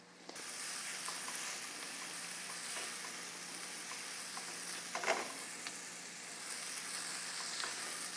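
Red onions fry and caramelize in a pan for an Indian dish, a steady soft sizzle throughout with a few faint stirring clicks and no talking.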